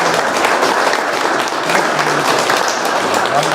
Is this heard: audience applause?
yes